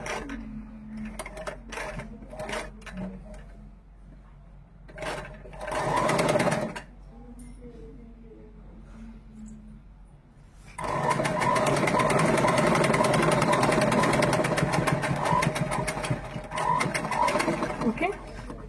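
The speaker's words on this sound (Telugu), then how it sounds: "కొంచెం దొడ్డు ఉన్న ప్లేస్లో కొంచెం మెల్లగా కుట్టండి." A sewing machine stitches a uniform shirt, first in short stop-start runs, then in a long continuous loud whirring stretch, with a person talking during the quieter early part.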